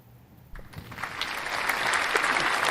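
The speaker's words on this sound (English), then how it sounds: "Go ahead and clap. No, clap away. Clap away." An audience at a talk about race and voting in America breaks into clapping, starting faintly and swelling into fuller, steady applause.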